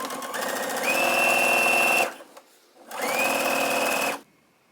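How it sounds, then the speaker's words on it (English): A sewing machine understitches the pocket of a pair of trouser shorts in two rapid bursts of close mechanical whirring and needle clatter, separated by a short pause and ending in quiet. "we're gonna understitch this entire piece here so that you don't see any stitches once the pocket is fully in place"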